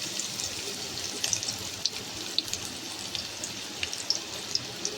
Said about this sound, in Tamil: எண்ணெய் சுட்டதுக்கப்புறம் வெங்காயத்தை போட்டுலாம்